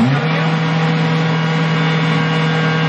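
A blender runs at a steady, loud, constant whir throughout, a continuous motor drone with a buzzing hum and no pauses or talking.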